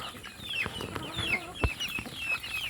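Chickens and young pullets clucking and chattering at feeding time on a small farm, a busy, moderately close flock with overlapping calls and soft background rustle.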